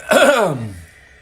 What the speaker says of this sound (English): Excuse me again while I clear my throat.